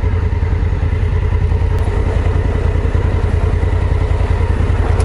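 A Suzuki DR650 dual-sport motorcycle ridden over slick wet clay, its engine running loud and close with a continuous rough, throbbing note and some clatter.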